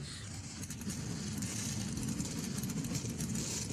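Modified race car engines at New Smyrna Speedway, fired up for the Richie Evans Memorial 100 Tour Type Modifieds race, rumbling together in a steady, dense idle that holds loud and even throughout with no speech.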